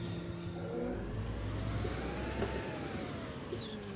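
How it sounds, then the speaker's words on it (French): A car in the Farming Simulator video game drives past on a rural road, its engine whine rising and then falling as it passes, steady and fairly loud under continuous vehicle hum, with no talk. "Ah merde, il y a une bagnole."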